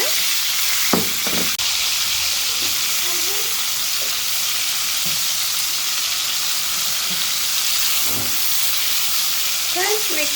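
Prawns fry in a marinated tamarind sauce in a hot pan with a continuous close sizzle, with occasional stirring clinks and scrapes.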